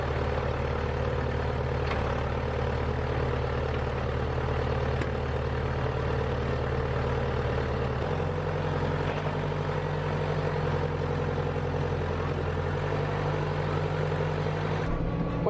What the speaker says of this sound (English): So hopefully the bucket is small enough on this tractor.